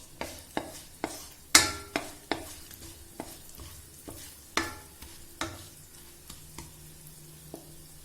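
Dry spices fry in oil in a kadai while a spoon stirs them, with sharp metallic scrapes and clinks against the pan at an irregular pace over a soft, steady sizzle.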